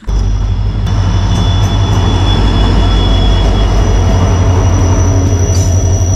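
The Kanchankanya Express rolls along at speed, heard from inside the coach as a loud, continuous rumble of wheels on rails, with a thin wheel squeal running through it.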